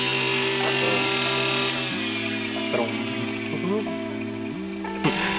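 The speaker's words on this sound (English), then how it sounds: "So today we're doing a little chainsaw work, clearing the paths for next season" A chainsaw drones steadily nearby while clearing outdoor paths, its engine pitch dipping and recovering as it bites through wood, with a few brief sharp knocks along the way.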